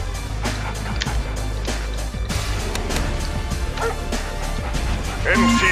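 A dog barks and yips repeatedly in the Red Alert 2: Yuri's Revenge game, mixed with game sound effects and a person talking over it.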